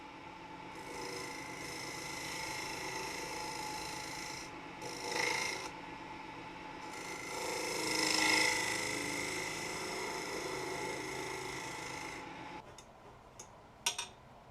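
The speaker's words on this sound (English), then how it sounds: "I used the sharp point of the detail gouge to clean out the corner of the mortise." A detail gouge scrapes and rasps in quiet, irregular strokes as it cleans out the corner of a shallow mortise in the base of a redwood bowl, with a few sharp clicks near the end.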